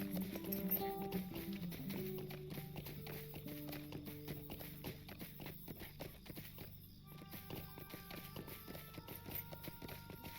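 Horse hooves clip-clop at a steady walking rhythm in the Lord of the Rings Online video game, faint and continuous, over a soft background music bed.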